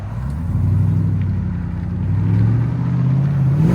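A Demon-swapped Jeep Gladiator with headers and Valvetronic Designs exhaust, valves closed, rumbles loud and deep at close range, its throaty burble swelling slightly with a light rev.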